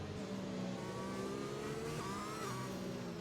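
Engine drone of a green Aston Martin Vantage safety car in a racing video game, a steady mid-pitched hum with slight revving shifts, continuous and close throughout.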